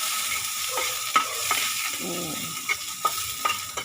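Food sautéed in a pan crackles in a steady close sizzle, broken by sharp intermittent clinks and scrapes of a stirring utensil against the pan. No one speaks.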